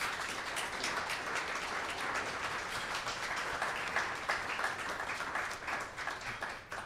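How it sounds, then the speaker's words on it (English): Fairly faint, distant applause from an audience for participating students at a museum event, steady clapping that tapers into scattered claps near the end. "Please join me and give them a round of applause."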